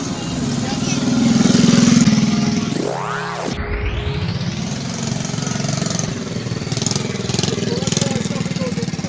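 A Wonderland Park amusement ride's engine revs hard in a rising, falling sweep, then settles into a steady mechanical drone, with people talking over it.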